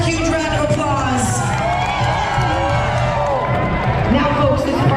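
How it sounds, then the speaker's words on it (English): A crowd at a Halloween party aboard the Carnival Breeze cruise ship claps and cheers continuously, with whoops and shouts rising through the applause. "Give our Pinata champion one more huge round of applause."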